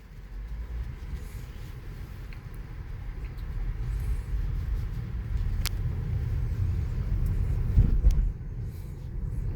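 A 2024 Tesla Model Y electric car driving, heard as a steady low road rumble and tire noise inside the cabin that swells slightly midway, with a faint click and no talking.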